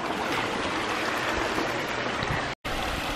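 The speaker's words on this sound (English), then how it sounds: "water is literally flowing underneath your feet as you walk through" Water flows steadily through a backyard pond with a spill bowl, slate walls and stepping stones, a close, continuous rushing and trickling wash that barely changes, cut by a brief dropout near the end.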